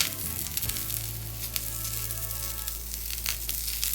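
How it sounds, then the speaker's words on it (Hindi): Eggplant roasting in mustard oil on a flat tawa griddle gives a loud, steady, close sizzle and hiss that holds all the way through, with a soft scrape near the start. "तो आइए तवे पर बैगन को भून लेते हैं। तवे पर थोड़ा सा सरसों का तेल ऐड करते हैं।"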